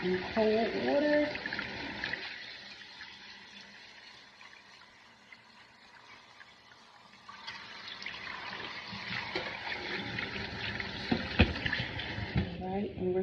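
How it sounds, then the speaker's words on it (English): Cooked noodles rinsed under a cold kitchen tap, a steady stream of running water splashing, easing off in the middle and then returning fuller, with clinks of a strainer or pot. "We're going to rinse our noodles in cold water."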